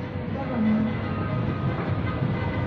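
A small train rumbles steadily nearby with a continuous low running noise and faint rattling, and no clear talk over it.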